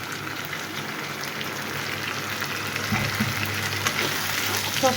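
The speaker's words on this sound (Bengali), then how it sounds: "সসটা দিয়ে আমি একটু ভালোভাবে একটু 1-2 মিনিটের মতো একটু কষিয়ে নিচ্ছি" Chilli chicken cooks down in a pan with its sauce, a steady close sizzle and bubbling that runs throughout, growing slightly louder and busier toward the end.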